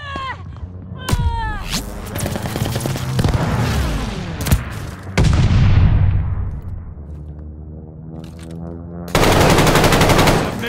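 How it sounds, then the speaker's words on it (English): Friendly airstrike in Call of Duty: Vanguard: loud continuous machine-gun fire and booming explosions fill the scene, swelling into a dense roaring barrage near the end, with whistling tones and brief voice bits early on. "Friendly sending an airstrike."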